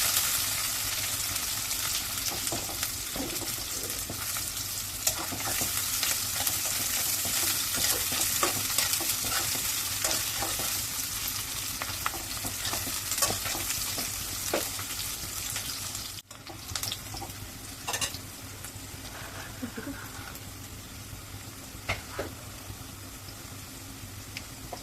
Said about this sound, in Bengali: পেঁয়াজ কুচি দিয়ে দিলাম, রসুন কুচি, কাঁচামরিচ কালি, এগুলো আমি কিছুক্ষণ ভেজে নেব।